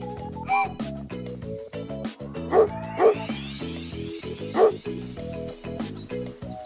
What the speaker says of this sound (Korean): 강아지가 뼈를 좋아해요.